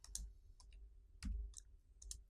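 Typing on a computer keyboard: a few quiet, scattered key clicks and taps in short bursts, close up and faint, with no talk.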